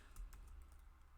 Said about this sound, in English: Let me get typing here.